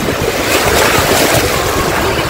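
Sea surf rolls in at a beach near Anapa, a loud, close, continuous wash of waves with heavy wind buffeting the microphone.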